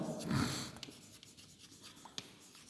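Pen or marker writing on a board during a lecture on DNA isolation, faint scratchy strokes and small taps following a brief louder opening noise, with no talking.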